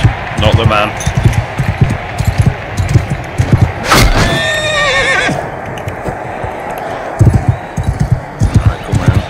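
A horse whinnies loudly near the middle of a Mount & Blade II: Bannerlord arena fight, standing out above a busy, thumping mix of hooves, combat impacts and someone talking throughout.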